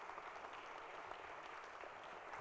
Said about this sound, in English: Another huge round of applause for him,